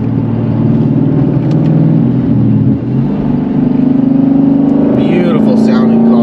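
A Lexus IS F engine drones loudly from inside the cabin, its pitch climbing steadily as it accelerates, with a brief dip midway.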